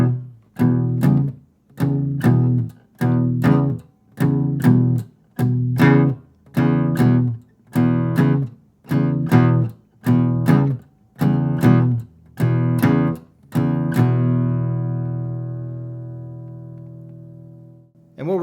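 Blues chord forms on guitar played with palm muting, a steady chugging pattern of short damped strums with downstrokes between the quarter notes, closing on a long ringing chord, alone and close.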